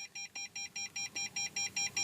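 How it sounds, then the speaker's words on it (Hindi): Tata Tigor door-open warning chime with the key left in the ignition, a rapid, even series of short electronic beeps, about ten in two seconds, clear and close. "जब आप डोर को खोलते हैं तो आपको एक बीप सुनाई देती होगी"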